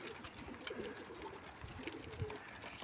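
Faint pigeon coos murmur in the background around a pigeon coop amid quiet outdoor noise, low and soft with a few brief rustles.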